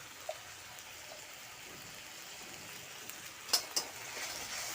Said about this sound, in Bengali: এবার মশলাটাকে একটু কষিয়ে নেব।